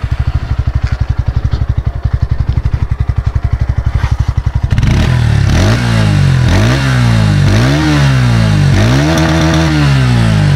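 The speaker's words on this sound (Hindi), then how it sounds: "तो चलिए इसका एक बार एग्जॉस्ट नोट सुन लेते हैं।" A Bajaj motorcycle engine idles with a steady rapid putter, then revs up repeatedly in loud rising and falling exhaust bursts, close by.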